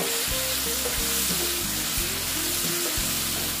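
Soybean and egg curry with potatoes sautéing in a pan, a constant close, loud sizzle of frying oil with rhythmic scraping thumps of stirring throughout.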